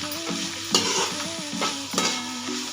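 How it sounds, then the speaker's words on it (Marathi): Crushed peanuts are stirred into cabbage and chana dal in a pan. A soft sizzle sits under a few distinct scraping strokes of the spoon, with a faint tonal hum in the background. "तर मिक्स करून घेऊया।"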